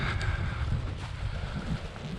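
Wind gusting through the open windows of an abandoned mock Tudor mansion, a steady low rumbling buffet that sounds close and fills the space, with no talking.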